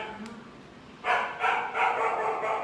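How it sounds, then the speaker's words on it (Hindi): A dog barks in a series of sharp, loud barks close by, four or five in quick succession after a quiet moment. "कुत्ते की आवाज़ आ रही है जी"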